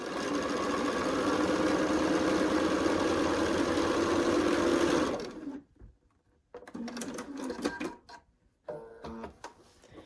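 A sewing machine stitching quilt block pieces hums at a steady, close pace for about five seconds, then stops, followed by soft handling and fabric-shuffling noises.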